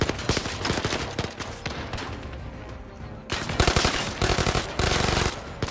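Loud, repeated gunfire in the shooter game Zero Caliber, with clustered bursts of shots, a brief lull in the middle, then heavier rapid firing toward the end.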